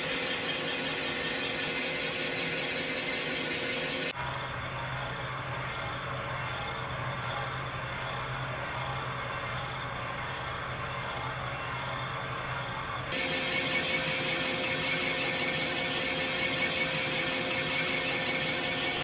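A cylinder boring machine takes a finish cut in a Mopar 413 engine block, giving a steady mechanical whine and grinding hum that drops to a quieter, muffled stretch midway before returning at full strength.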